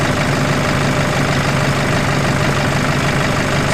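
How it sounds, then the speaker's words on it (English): A motor is kicked over to wind rope onto a drum, giving a loud, steady engine drone with a constant low rumble and no talk. "So we'll kick the motor over and come back for the next stage."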